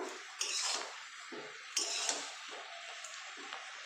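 Spinach is stirred in a covered cooking pot: soft metallic scrapes and clinks of a utensil against the pot come in a few short bursts, with moist shuffling between them.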